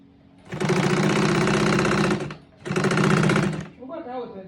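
Electric sewing machine stitching a joggers' elastic waistband, running in two loud, steady bursts of rapid mechanical hammering with a short stop between, close up, followed by a brief voice.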